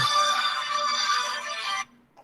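A phone ringtone plays loudly and steadily for almost two seconds as a bright, tonal melody, then cuts off abruptly into near silence.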